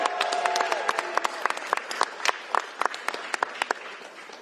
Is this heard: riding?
no